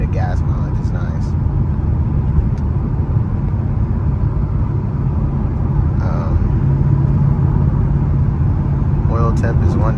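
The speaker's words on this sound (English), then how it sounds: "And then going into fifth, just cruising at 65" Manual-transmission car cruising in fifth gear at 65 mph gives a steady low engine and road rumble from inside the cabin, with a voice talking over it at moments.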